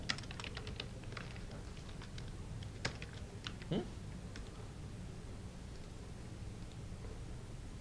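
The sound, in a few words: typing on a computer keyboard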